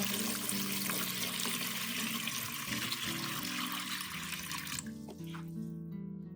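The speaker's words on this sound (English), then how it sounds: "Pour water into a large bowl." Water pours steadily into a large bowl, a continuous hissing splash for several seconds before cutting off, with faint music underneath.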